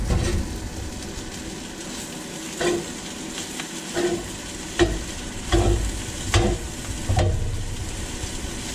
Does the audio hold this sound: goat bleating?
no